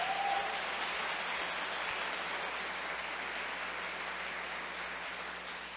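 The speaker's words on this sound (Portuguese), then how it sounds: "Eu queria que a gente aplaudisse o Senhor nessa noite." Congregation applauding during an evening church service: soft, steady wash of many hands clapping, distant and sustained, slowly tapering, with no voices over it.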